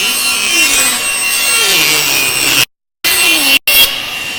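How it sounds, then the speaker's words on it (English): A hand saw cuts a timber board to width for a latch box, a steady close rasp of back-and-forth strokes that breaks off twice briefly before resuming. "I might as well even just trim it down to the right size now"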